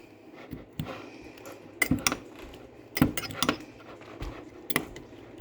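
A utensil stirs egg cup mixtures in a home kitchen, making irregular clinks and scrapes against the cups, close and moderately loud, with no talking.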